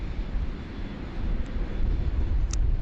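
Airliner departing down the runway at Sydney Airport in heavy rain and wind, a steady broadband engine roar that grows slightly louder toward the end, heard at a distance with no talk.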